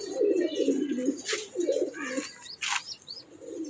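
Budapest racing pigeons coo in soft repeated bursts at close range, with brief chirps and a faint flutter of wings.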